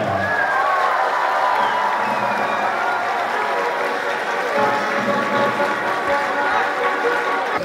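A crowd applauds steadily at a ceremony where the Bobruisk football club Belshina receives its championship medals and cup, a broad sustained wash of clapping with some cheering mixed in, loud and continuous throughout.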